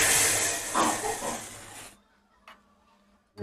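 Hot tarka of oil and red chilli powder poured into cooked chana dal, giving a loud broadband sizzle for about two seconds that cuts off abruptly, followed by quiet and a small clatter.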